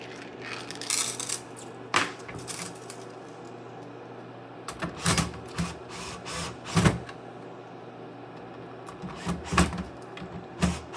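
Electric screwdriver on a low torque setting driving screws into a PS5 Slim console during an HDMI port repair, heard as several short whirring bursts separated by pauses, close and moderately loud.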